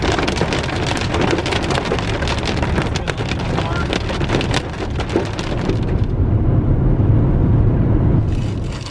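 Heavy rain drums hard and fast on the roof of an SUV during a storm, dense and close, easing abruptly near the end before picking up again.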